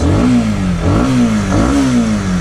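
A Honda CBR125R motorcycle engine revs loudly up and down three times in a steady rhythm, each rev rising in pitch and then falling back, recorded close with no talk.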